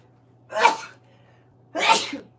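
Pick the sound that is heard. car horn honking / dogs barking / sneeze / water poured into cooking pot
sneeze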